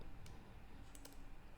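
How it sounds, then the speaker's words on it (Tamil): Quiet keyboard typing, a few sparse key clicks against a low background hum, with no talking. "நான் டைப் பண்ணும் போதெல்லாம்"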